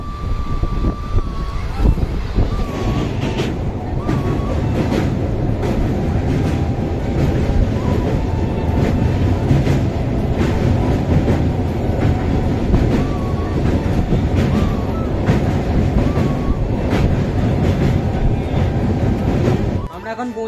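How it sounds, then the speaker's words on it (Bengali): A Santragachi to Digha passenger train running after leaving Bagnan, with a steady loud rumble and rail clatter throughout and brief higher whine tones, close up from inside the carriage. "আমাদের ট্রেন এখন ছেড়ে দিয়েছে বাগনান থেকে"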